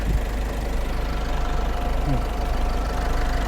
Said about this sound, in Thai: นี่ให้ฟังเสียงเครื่องนะครับเครื่องเดินนิ่งๆนะเครื่องยนต์หนึ่งจุดเก้านะครับ